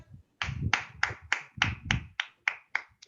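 A handful of people clap together during a communication training session, giving about ten sharp, evenly spaced claps in a row, close and fairly quiet.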